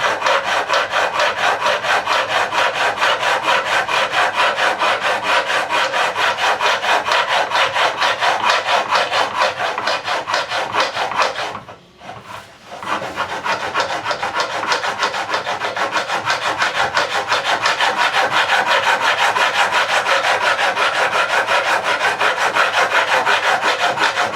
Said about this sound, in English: I'm just going to go straight on with it and just start filing away